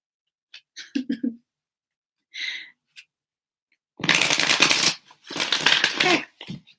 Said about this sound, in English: We're just going to shuffle this again.